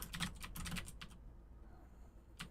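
Rapid clicking keystrokes on a computer keyboard while a message is typed, close and faint, pausing for about a second before a last keypress.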